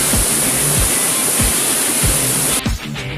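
Steady, loud roar of water pouring down at Twin Falls in San Juan, Laguna, with low rhythmic thumps beneath and a sudden shift near the end.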